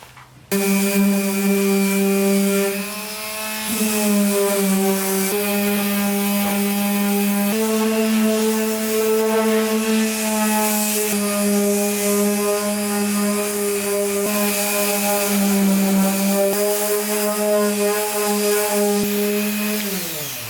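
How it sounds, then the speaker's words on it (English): A power sander drones steadily on a Mazda FC RX-7 car body panel, a continuous buzzing whine with slight shifts in pitch as pressure changes, close and loud for the whole stretch. "Time to start sanding."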